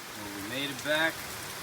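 Heavy rain pours down in Bimini as a steady, even hiss of falling water, while a voice briefly speaks over it.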